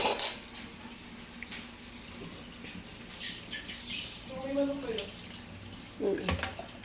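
Water runs from a kitchen faucet into a sink, a steady splashing stream with brief clinks, while a child's and an adult's voices talk nearby.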